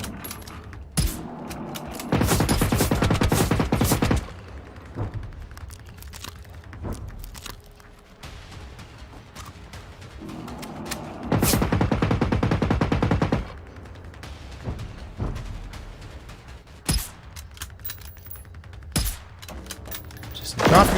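Machine gun fire in Generation Zero comes as two long, loud, continuous bursts several seconds apart. Scattered single shots, clinks and faint movement fill the quieter stretches between them.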